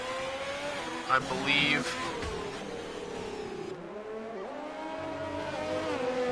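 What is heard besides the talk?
Formula 1 Ferrari spinning at Singapore race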